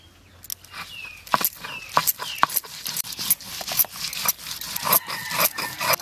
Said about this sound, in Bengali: রসুন বেটে নেব